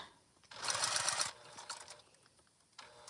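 Sewing machine top stitching a park bag, a close mechanical whir running steadily for under a second, then fainter stitching and handling noises trailing off, with no talk over it.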